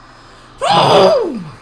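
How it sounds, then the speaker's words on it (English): A single loud sneeze with a rising then falling voiced squeal, close up after a brief quiet moment. "that was a sneeze"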